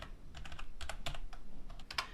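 Quick computer keyboard key presses while working in After Effects, a short run of crisp, close clicks in uneven bursts with a couple of louder taps, no talking.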